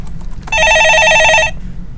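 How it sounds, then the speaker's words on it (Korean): A telephone bell rings for about one second in a single loud, steady electronic burst, standing alone against quiet room background with no talk over it. "전화 받아보겠습니다"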